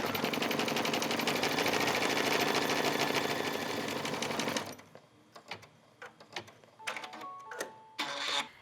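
An embroidery machine stitches a letter embellishment onto a leather bag strap, a steady, dense mechanical whirr running for about five seconds before stopping, followed by quiet handling clicks and small thumps.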